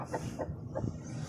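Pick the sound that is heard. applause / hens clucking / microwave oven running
hens clucking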